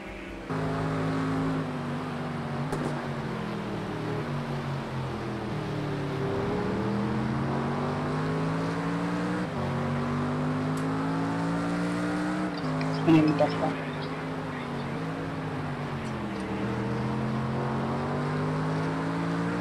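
A McLaren 650S and other racing cars in a racing video game: steady engine drone with rising and falling pitch through gear shifts and corners, a brief tire squeal, and a voice talking over it.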